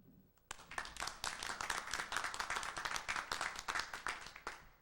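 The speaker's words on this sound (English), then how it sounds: "we on the panel are going to applaud" A panel at the closing discussion of a 1999 colloquium applauds the audience: a sudden burst of dense, steady hand clapping that starts abruptly and continues evenly for several seconds before cutting off.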